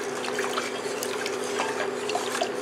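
A peach moonshine mixture with cinnamon sticks simmers gently in a pot, giving a soft, steady bubbling and trickling with small pops, close and quiet with no talk.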